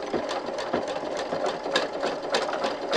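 A sewing machine stitches a zigzag across a fabric coaster, its needle clattering in a fast, steady rhythm, close and loud throughout with no voices.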